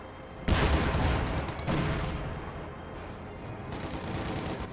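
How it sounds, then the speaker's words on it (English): Sustained machine gun fire and heavy battlefield shooting in a World War II real-time strategy game, a loud rattling fusillade that runs almost the whole clip, with booming bursts layered throughout. "Infantry, nail him with the MG"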